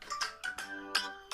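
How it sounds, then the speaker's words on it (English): A Samsung Galaxy S24 Ultra phone rings nearby with a bright, repeating electronic tone in a few short bursts, sounding alone in a quiet room. "Okay, my Galaxy S24 Ultra is absolutely ringing."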